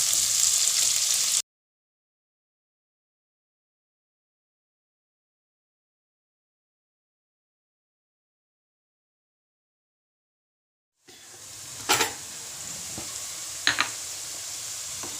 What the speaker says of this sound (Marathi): लसूण ब्राऊन होत आला की मग कांदा घालूया.